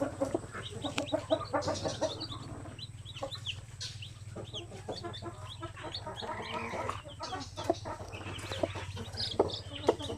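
Newly hatched Basilan and Zampen native chicken chicks: repeated high, thin peeps and soft clucking from several birds, fairly close, over a constant low background hum, with no talking.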